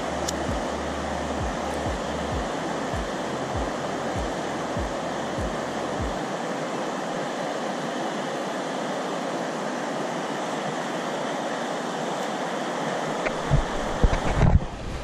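Water rushes and gurgles steadily in a creek, a constant broad wash close by, with a few low regular thumps early and a brief handling clatter at the end.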